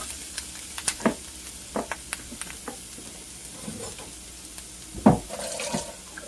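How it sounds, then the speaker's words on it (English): A whisk stirs grits in a pot, giving soft, intermittent scraping and sloshing strokes with a few sharper knocks against the pot, fairly quiet and close, with a low sizzle underneath. "You have to continually stir your grits too, so it doesn't get lumpy"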